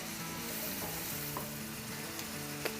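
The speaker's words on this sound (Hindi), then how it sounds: "प्याज फ्राई होते हुए 3-4 मिनट हो गए हैं" Onions sizzling in a pan as the base for butter chicken, an even close hiss carrying a faint steady hum and a few soft pops and clinks.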